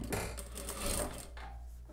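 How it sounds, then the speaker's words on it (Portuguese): A sewing machine topstitches along the edge of a denim strip with a quick, steady mechanical whir, heard close and alone for about two seconds. "Agora eu vou abrir a minha tirinha e vou pespontar bem na bordinha."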